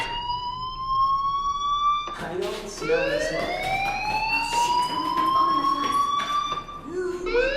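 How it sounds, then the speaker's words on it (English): School fire alarm in the video game Life Is Strange, a loud wailing electronic siren sweeping upward in repeated rising tones, continuous and close, with a brief break before it restarts. "do you hear that fire alarm? That means you should be outside."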